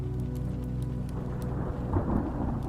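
Thunderstorm ambience with steady rain and low rolling rumbles of thunder, one swelling a little louder near the end, continuous and without voices.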